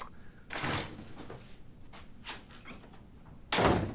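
An indoor door opens as someone comes in: a sharp knock-like thud, then softer clicks and rustles, and a second louder bang near the end, each brief and close by.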